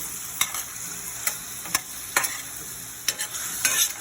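Red and green peppers, onions and shrimp frying in cooking olive oil, a continuous sizzle broken by several sharp stirring scrapes and clatters at uneven intervals, close and fairly loud, no speech.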